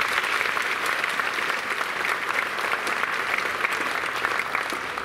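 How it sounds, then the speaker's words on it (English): Sustained audience applause at a junior high school holiday concert, a dense, steady wash of many hands clapping at even loudness for several seconds, with no talk over it. "Let's give her a round of applause."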